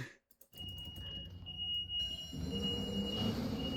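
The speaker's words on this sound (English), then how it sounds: "the alarm's very quiet" A quiet electronic elevator alarm in a video game gives a steady high beeping tone over a low background rumble that gets louder partway through.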